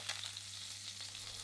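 Whole chicken thighs searing in a frying pan alongside tomato concassé, giving a steady, close, moderately quiet sizzle with a constant low hum beneath and no talking.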